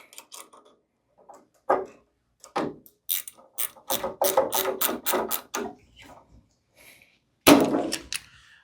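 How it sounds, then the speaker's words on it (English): Vice grips clamped on a stud tighten the cable of a BAL Accu-Slide, giving a close, sharp run of metallic ratcheting clicks in short bursts separated by pauses. "I want to use my vice grips, smooth portion of that stud, clamp onto it,"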